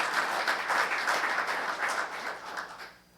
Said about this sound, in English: A round of applause to another mental health professional.